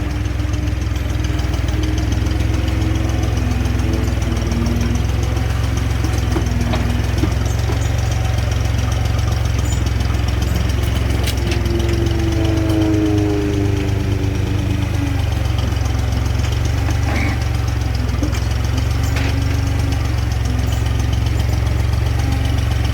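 Tractor engine idling steadily close by with a low, even chugging throb throughout, while faint tonal noises drift over it during work on a 1959 Chevy truck.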